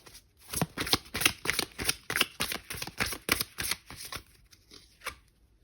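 A deck of tarot cards is shuffled by hand in a steady run of about a dozen crisp, papery riffling bursts. The sound is close and fairly loud, then grows lighter and sparser as the shuffle winds down.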